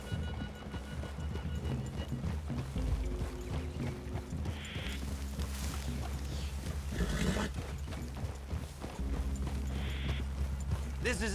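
Horses clip-clop at an easy walking pace in the video game Red Dead Redemption 2, with steady hoof falls blended into a dense game mix of music, ambience and occasional voices.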